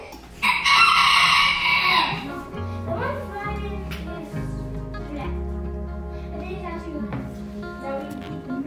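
A pet hen clucks indoors in a home, loud bursts of excited squawking and crow-like calls up close at first, then softer repeated clucks continuing beneath a person talking.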